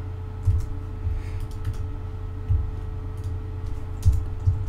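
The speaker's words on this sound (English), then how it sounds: "we're just gonna type in fan background" Keys on a computer keyboard are tapped in short irregular bursts, close by over a low steady room hum, with no voices.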